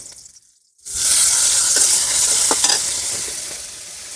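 Onions dropped into hot oil in a pan on a village clay stove for okra fry, bursting into a loud sudden sizzle after a brief quiet start and hissing steadily, close and alone.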